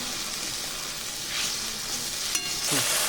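Spices with salt, turmeric and sugar sizzle and fry in a pan for a spicy banana flower curry with lentil dumplings, a steady crackling hiss broken by a few scrapes of stirring near the end.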